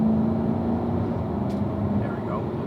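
A Corvette Stingray accelerates on a test drive, a steady engine drone heard from inside the car, with someone talking over it.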